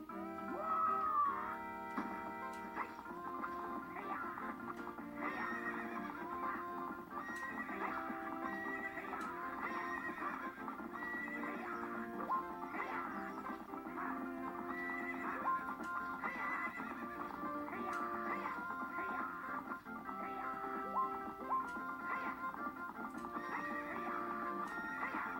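Horse sounds from The Legend of Zelda: Ocarina of Time during a horse race: whinnies over a continuous clip-clop of galloping hooves, with game music running underneath throughout.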